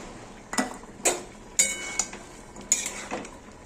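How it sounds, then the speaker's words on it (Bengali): Mustard paste stirred into a pan of mango-flavoured data (drumstick) curry, a spoon scraping and clinking against the pan in five or six distinct strokes, close and moderately loud. "সর্ষে বাটাটা দিয়ে আরও কিছুক্ষণ আমি নাড়বো, কষাতে থাকবো।"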